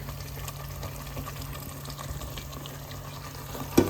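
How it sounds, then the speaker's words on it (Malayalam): Pan of roasted-coconut kappa masala with chicken sizzling steadily up close as water goes in, a continuous hiss and bubbling with a small clatter near the end, no talking. "മിക്സി കഴിഞ്ഞിട്ട് വെള്ളവും ഒഴിച്ചു കൊടുക്കാം"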